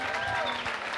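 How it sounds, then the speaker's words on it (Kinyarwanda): A crowd claps for Ruti in a dense burst of applause, close and continuous, with voices faintly mixed in. "amashyi menshi cyane kuri Ruti."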